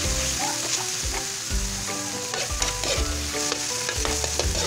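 Tomatoes sauté in a pan for chicken tinola, a close, steady sizzle broken by repeated scraping and clattering stirs of a utensil against the pan.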